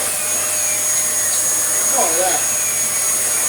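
A Dyson DC08 vacuum cleaner fitted with an early-generation turbine head runs close and loud in a steady, high-pitched roar, with a brief spoken remark over it.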